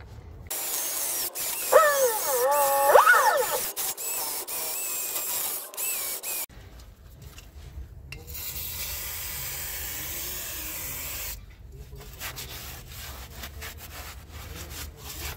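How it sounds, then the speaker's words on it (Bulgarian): A small drill with a wire brush attachment whirs and grinds rust off a Volvo brake part in a steady, raspy drone, close by, with a brief higher whine early on and no voices. "За целта ще използвам ето тази малка бормашинка с накрайник телена четка."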